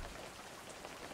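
Rain falling in a fishing video game, a dense, unbroken patter of drops on a surface, soft and constant across the brief moment, no talking.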